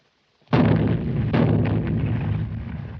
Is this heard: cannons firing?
yes